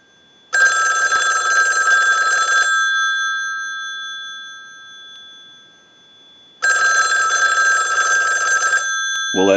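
An ITT 554 rotary wall telephone's bell rings on a ring cycle in two loud, rattling bursts of about two seconds each, with a few seconds of silence between them.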